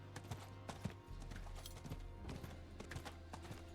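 Horse mount hooves clip-clop in Diablo 4 with a steady, rhythmic trot of sharp knocks over a low, constant game background hum. The sound is moderately close but fairly quiet.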